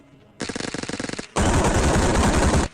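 Gunfire in PUBG Mobile: a rapid burst of about a dozen close, evenly spaced shots, a brief pause, then a louder, denser sustained volley of automatic fire.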